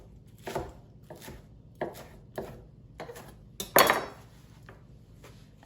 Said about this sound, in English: I even like to give my spring greens a quick chop